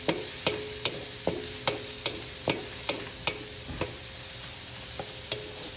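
Onions sizzling and frying in a large kawa wok while being stirred, with a steady hiss broken by regular sharp scraping clicks of the utensil against the pan, about two strokes per second, close and fairly quiet.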